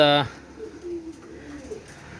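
Pigeons of teddy breeds kept in a loft coo softly, a few low throaty murmurs rising and falling after a brief loud tonal sound at the start, near but faint.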